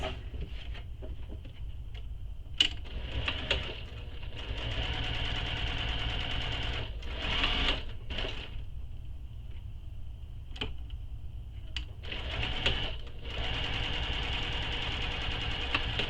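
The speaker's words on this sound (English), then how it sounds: "Now we're going to top stitch these long edges." Sewing machine top-stitching the long edges of a bag strap, its motor whirring in several bursts of a few seconds each with pauses between, close and steady, with no talking.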